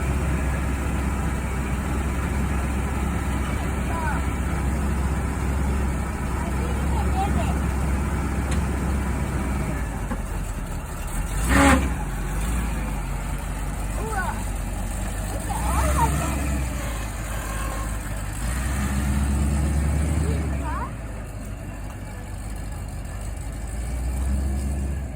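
A 1977 Corvette engine is cranked with fuel dumped into the carburetor, giving a steady loud rumble and churning with a brief sharp burst partway through, while voices talk nearby.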